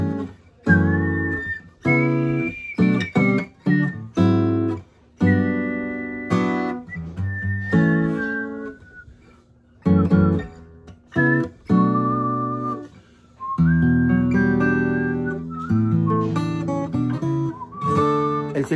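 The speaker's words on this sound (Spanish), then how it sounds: "El silbido es mío" A person whistles a melody in short phrases, clear and close, with brief pauses between runs of notes.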